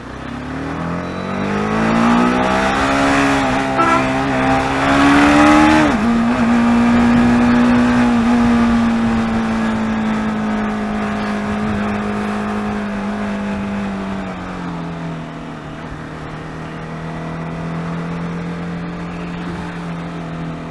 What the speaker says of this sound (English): I'm able to flick this motorcycle through this traffic pretty well.